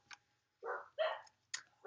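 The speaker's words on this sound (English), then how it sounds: "Oh my god, these dogs." A few short dog barks spaced apart across under two seconds, fairly close and moderately loud, with quiet gaps between them and no talk.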